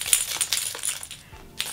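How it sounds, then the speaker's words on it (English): Keys jingle and clink inside a backpack, a short run of bright metallic rattles and taps, close and fairly light, with no talking. "And then I have my keys"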